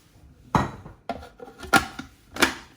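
Butter goes into a cooking pan while making calf's liver with parsley mashed potatoes, heard as four or five separate clinks and taps of utensil on pan, close and fairly quiet, with gaps of near silence between.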